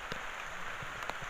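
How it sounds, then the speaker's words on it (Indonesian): Rain falls at night on a forest camp in a brief, faint patter with scattered drops tapping nearby surfaces. "Hujan hingga pagi."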